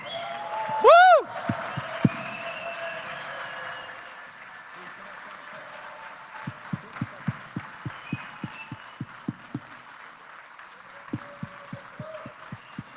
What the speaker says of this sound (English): please give your biggest cheer, your biggest round of applause to Daniel, to Manuela, and to Nicole